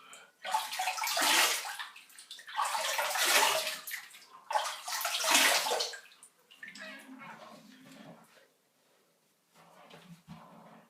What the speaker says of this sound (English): Let's just get some water on that.